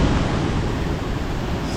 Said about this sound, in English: so I can hear the waterfall.